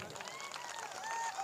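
Audience applause for a performer at a Kannada comedy or artists' gathering, a steady wash of clapping that swells slightly toward the end, with no one speaking over it.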